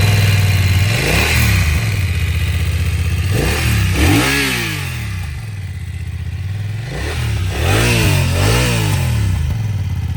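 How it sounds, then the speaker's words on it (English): A BMW XR motorcycle engine revving hard and close, with repeated throttle blips that rise and fall in pitch in about four bursts, dropping toward a lower rumble between them and no talking. "BMW XR ಸೌಂಡ್ನ ಕೇಳೋಣ"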